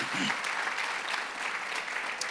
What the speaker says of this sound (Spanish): Puedes darle un fuerte aplauso.